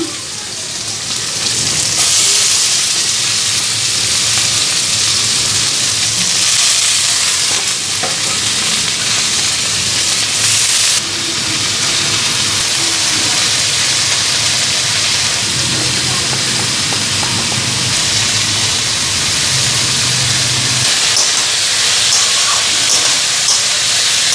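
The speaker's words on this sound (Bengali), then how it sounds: "ভাজাটা বসাই দিই কড়াই গরম হয়ে গেছে এখানে কী কী দিলাম আলু বিন পটল ক্যাপসিকাম" Potato, beans, pointed gourd and capsicum fry in a hot wok, giving a steady loud sizzle and hiss with occasional stirring scrapes, continuous and close throughout.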